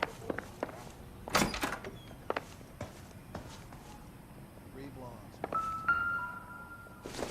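A door opening in the crime game L.A. Noire, a short creak and clack among soft footsteps in a quiet flophouse room, with a later sliding scrape; brief speech passes in the background.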